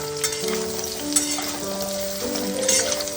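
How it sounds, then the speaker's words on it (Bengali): Chopped vegetable stems sizzle in a pan with already fried onions, a steady close crackle and hiss of hot oil with a few sharper pops and a faint tonal hum underneath, no voices. "এইবারে দিয়ে দিচ্ছি আমি কেটে রাখা ডাঁটাগুলো দিয়ে হালকা ভাবে একটু ভেজে নেব"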